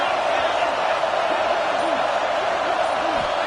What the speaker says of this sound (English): This crowd bringing serious noise on this huge fourth down play.